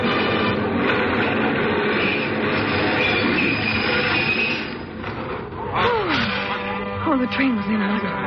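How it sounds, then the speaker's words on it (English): A subway train rolls into a station in a radio drama, a loud rumbling roar that eases as the train slows, with squealing wheels and brakes sliding downward near the end. "Oh, the train was in."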